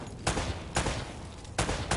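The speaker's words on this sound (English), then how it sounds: "Try shooting one of those lamps out." Gunshots fired at a lamp in Uncharted: The Nathan Drake Collection, four loud, sharp cracks in quick succession, each followed by a brief noisy tail.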